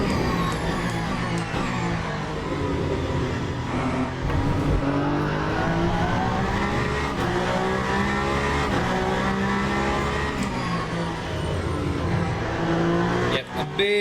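Race car engine and tires in a racing game, a loud continuous engine whine climbing and falling through gear changes, with tire noise and someone talking over it.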